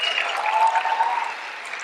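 An audience at an Ignite Denver speaker event claps together, a dense burst of applause that swells and then tapers slightly, slightly muffled and distant.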